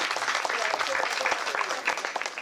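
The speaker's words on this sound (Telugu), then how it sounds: "అందరు చప్పట్లతో స్వాగతం పలకండి" Steady audience applause welcoming a police superintendent at a felicitation event in Adilabad, continuous and moderately loud, with speech faintly mixed in.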